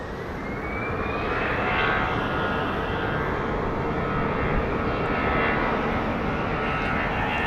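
An airliner roars down the runway on its takeoff roll at Phoenix Sky Harbor airport, a loud, steady jet engine rumble with a rising whine that builds and holds throughout.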